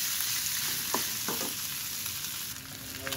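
Potatoes frying in a pan with ground cumin, coriander, garam masala and chaat masala, a loud, dense, continuous sizzle with a few soft stirring scrapes, close up.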